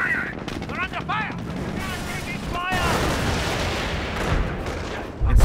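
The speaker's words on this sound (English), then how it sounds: "Receiving fire! They're under fire!" Gunfire crackles through a Company of Heroes video game battle in bursts and single shots over a rumbling wartime din, with shouted voice lines layered over the fighting.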